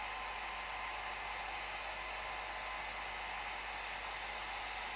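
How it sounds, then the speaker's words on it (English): A hair dryer runs steadily at close range, a constant loud whooshing hum with no breaks. "I'll turn the hairdryer on"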